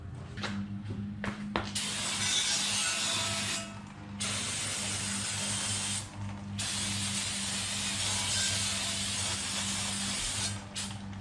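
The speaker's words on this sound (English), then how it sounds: "spray everything down" Cleaner sprays in long hissing bursts over the front brake parts of a 2005 Subaru Outback with the rotor removed, several sustained blasts separated by short pauses over a steady low hum, close and fairly loud.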